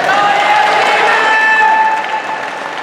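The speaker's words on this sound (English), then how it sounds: "let's give a round of applause to everybody that did dress up tonight in the Halloween costumes" A crowd at a Halloween costume awards gathering gives a round of applause, with loud sustained clapping and some cheering that eases off toward the end.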